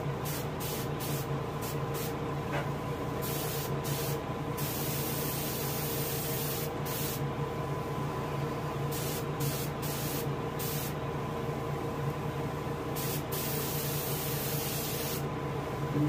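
Pearl paint sprays from an airbrush onto a largemouth bass taxidermy mount, a steady hiss running throughout with short breaks and bursts, close and fairly loud, with no voices.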